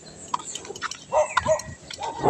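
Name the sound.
dog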